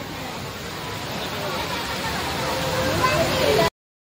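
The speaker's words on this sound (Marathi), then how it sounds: "कसं पाणी येतंय ग" Water pours down a waterfall in a city garden in Chhatrapati Sambhajinagar, a steady, broad rushing roar close by that builds slightly, with voices faintly mixed in, before cutting off abruptly.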